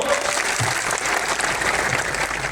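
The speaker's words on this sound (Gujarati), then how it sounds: "આજે આ મંચ પરથી એમના માટે જોરદાર તાળીઓ પાડી લો" A crowd at an outdoor political rally in Khedbrahma, Aravalli, claps loudly and steadily in a dense, continuous burst of applause.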